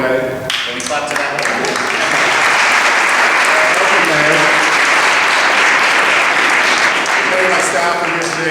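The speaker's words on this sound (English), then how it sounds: "Can we clap to that?" An indoor audience at a World AIDS Day event in the Rhode Island State House bursts into steady, dense applause that swells and holds for several seconds, with faint voices underneath.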